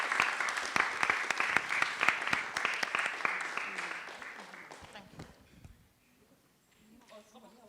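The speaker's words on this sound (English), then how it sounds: "So please give yourself a round of applause." Audience applause at a Girl Be Heard Trinidad and Tobago performance event, a dense burst of clapping that gradually thins and fades out over several seconds, ending in near quiet with faint room noise.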